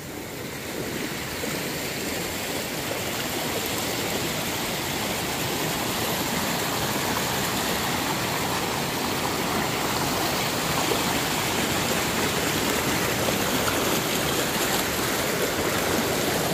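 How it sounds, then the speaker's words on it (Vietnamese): A mountain stream flows nearby in an unbroken, loud rush of water, steady throughout with no voices. "Qua suối"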